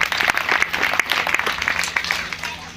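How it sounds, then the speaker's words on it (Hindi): An audience applauds during a Shiva Mahapuran religious discourse event, a lively, close clapping with distinct individual claps standing out from the crowd wash, fading slightly toward the end. "तालियां बजाइए सब लोग।"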